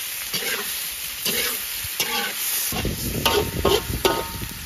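Doubanjiang bean paste stir-fried in a wok with garlic, dried chillies, bay leaves and small chillies, giving a loud, close, steady sizzle broken by repeated scraping strokes of a spatula against the pan.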